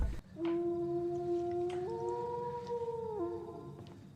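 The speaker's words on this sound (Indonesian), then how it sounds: "Mendengar lolongan anjing, mereka pun sadar bahwa kawanan anjing sedang mengerahkan pasukannya." Wild dogs howl in the forest, a long sustained tonal howl with several voices rising and shifting pitch together, holding steadily for a few seconds over a low rumble of background noise.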